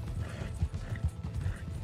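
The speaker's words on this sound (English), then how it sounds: "There's this horse in the middle of the road" A horse's hooves clop steadily in Red Dead Redemption 2, a muffled, soft rhythm of several beats sitting under a dense low game soundscape.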